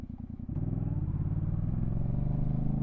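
A motorcycle engine hums steadily at speed while riding, its low, even drone rising slightly as the throttle opens, close and continuous throughout.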